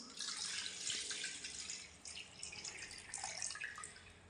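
Water pours out of a bottle that was just cleaned of long-built-up algae, making a soft, continuous trickling splash that stays faint and steady throughout, with no voices.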